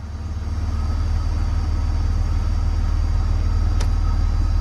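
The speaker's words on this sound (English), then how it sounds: "you should be able to hear the fuel pump running constantly once you turn the car on" A car engine idles after a fuel pump replacement, a steady low rumble that swells in the first second and then holds even and close, with a brief faint click near the end.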